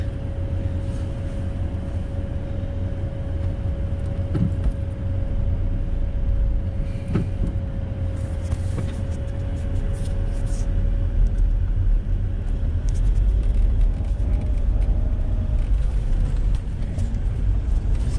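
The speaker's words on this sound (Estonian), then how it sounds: "Autosid tuleb igalt poolt." Cars driving past on a road in Estonian traffic, a continuous rumbling roadway wash with a steady engine hum heard from inside a vehicle, no voices.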